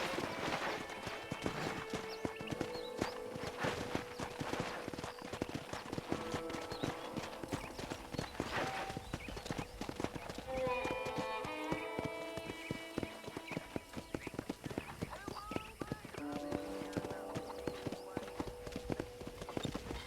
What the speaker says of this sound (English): I picked out a fine horse for you. Come on, boy.